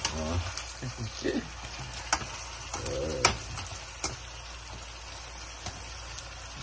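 Pork humba stirring and frying in a pot, with soft sizzling under scattered scrapes and clinks of a spoon against the pot, fairly quiet and close.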